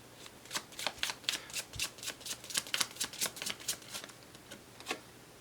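Tarot cards shuffled in rapid crisp riffles, a dense run of papery flicks and snaps close up with no talking, drawn before the final card is laid.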